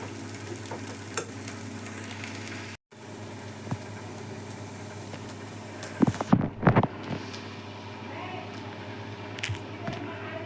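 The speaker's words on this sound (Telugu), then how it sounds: "ఆలు ఫ్రై అయిపోయినాయి ఆయిల్లో, 2 స్పూన్స్ ఆయిల్లో." Potato cubes frying in two spoons of oil with turmeric for Telugu-style aloo fry, a steady low sizzle with brief scraping and stirring bursts midway, no talking heard.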